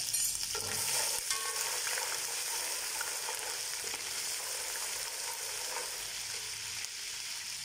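Onions frying golden in a pot for Banarsi beef pulao, a steady close sizzle with stirring scrapes throughout, no voices.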